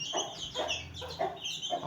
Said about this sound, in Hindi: ये देखें मेरे कंधे पे आ गई ये छोटी मुर्गी